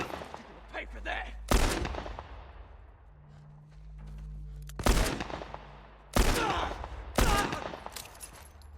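Revolver gunshots in The Last of Us: four loud, sharp cracks spaced a second or more apart, each with a short booming tail, amid quieter background game noise.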